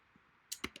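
Three quick keystrokes on a computer keyboard, sharp close clicks in a quiet room.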